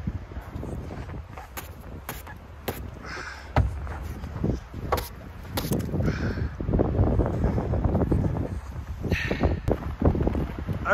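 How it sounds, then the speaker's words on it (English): Strong gusty wind at a snowy winter campground in Bryce during a blizzard buffets the microphone, a continuous low roar with rumbling surges and some rattling knocks throughout. "I've been outside. It's crazy windy."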